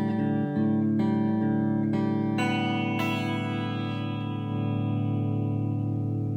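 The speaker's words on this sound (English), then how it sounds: "I imagine you'll prefer to be in the green mostly." Guitar played through a Marshall JTM60 amplifier on the clean green channel, a few plucked notes and chords building into a ringing, sustained chord that slowly decays, loud and close with no talking.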